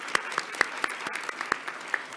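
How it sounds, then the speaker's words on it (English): Audience applause at a college Hall of Fame induction ceremony, sustained moderate clapping with distinct individual hand claps popping out at a steady pace. "Can we give them a round of applause for being here?"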